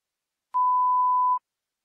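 A single steady electronic beep at a fixed mid pitch sounds alone for just under a second, clean and fairly loud, with silence before and after.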